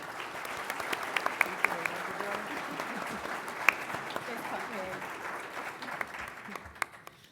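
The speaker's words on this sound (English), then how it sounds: "So let's give another round of applause" Sustained audience applause after a panel of women cyber leaders, a steady room-filling patter of many hands with a few sharper claps, slowly fading at the end.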